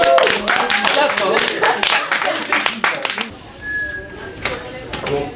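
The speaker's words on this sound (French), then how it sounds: "On peut applaudir." A small audience at a tax-evasion quiz event gives scattered, sharp hand claps for about three seconds, then they thin out as a person speaks.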